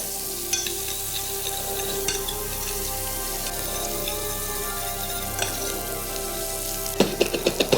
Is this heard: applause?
no